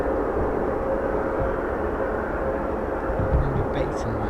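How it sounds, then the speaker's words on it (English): Singapore Airlines Airbus A350 pushing back at Manchester Airport, a steady low engine drone with a faint whine heard from a distance, while people chat nearby. "Singapore A350 pushing back."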